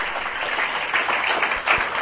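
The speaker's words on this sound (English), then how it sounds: "I request all the students to welcome her with a loud round of applause" Students in a hall at a session attended by a judge of the Punjab and Haryana High Court break into a loud, dense round of applause that holds steady from start to finish.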